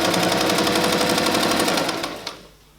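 A new sewing machine runs fast through two folded layers of scrap canvas, a close, loud, rapid rhythmic clatter that stops abruptly near the end.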